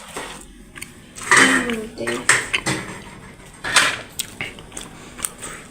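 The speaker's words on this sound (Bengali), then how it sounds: "ভাতে কিছু ঢাকনা দাও।" A metal lid is set onto a pot of cooked rice in a small room kitchen, giving several clanking, clattering knocks of pot and lid at close range with a voice speaking over them.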